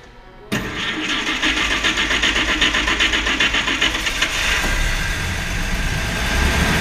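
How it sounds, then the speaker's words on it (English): A 1941 Graham Hollywood Supercharged car engine catches after a brief start and settles into a loud, close, steady run with a regular pulsing beat. "You can hear the engine."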